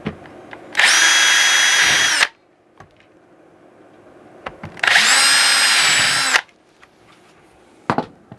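A power drill drives screws into a valve tracer case, two loud whining bursts of about a second and a half each, close up, separated by quiet handling clicks and taps.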